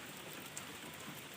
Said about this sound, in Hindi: आज हमारे गांव में बारिश पड़ रहा है